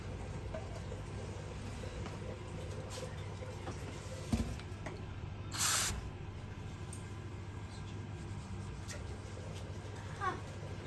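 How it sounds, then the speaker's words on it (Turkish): A short aerosol spray hiss, one burst lasting about half a second, heard against a faint steady background hum. "Tekrar sprey sıkalım."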